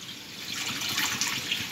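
Water poured into a wok for a jute leaf curry, making a brief, steady rushing splash that grows slightly louder as it continues.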